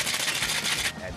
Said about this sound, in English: Then comes the tequila, followed by crème vette. Shake it up,